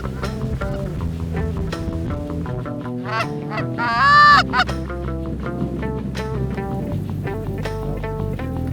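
A large flock of geese, specklebellies, snow geese and Canada geese, honks continuously during a late-season goose hunt in Kansas, dense overlapping calls, loud and near, with a stronger surge midway.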